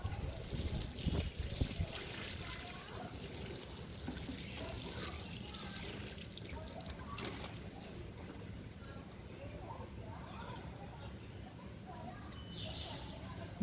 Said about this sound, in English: Now I'll give water to it.